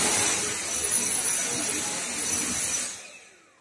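A Dyson V7 cordless stick vacuum with its turbo brush runs with a steady, loud, airy whine and hiss close by, then cuts off and spins down over the last second.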